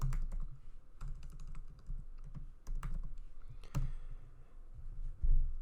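Someone types a comment on a computer keyboard in uneven bursts of close clicking keystrokes, with short pauses between runs and no speech.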